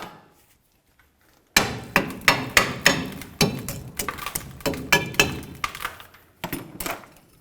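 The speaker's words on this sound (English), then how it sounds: "we're going to be using our hammer and carefully bonking on the back side trying to drive this away" A hammer strikes the back of the rear brake backing plate on a 1999-2007 Chevy Silverado. After a quiet second and a half, a dozen or so sharp metallic bangs ring out in an uneven rhythm, loud and close.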